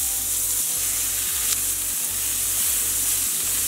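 A sirloin steak sizzles and fries loudly in a hot pan just after being flipped, a continuous close crackling hiss with a low rhythmic hum underneath and no talking.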